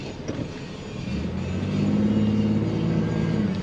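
A car with a failing transmission idles and then takes up drive gear, a close, low engine rumble that swells slightly and stays steady, with no talk.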